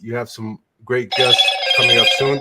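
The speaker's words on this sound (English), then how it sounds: "That's my phone about to die." A smartphone gives a low-battery alert, a bright electronic ringing tone lasting about a second that sounds over a man's ongoing speech.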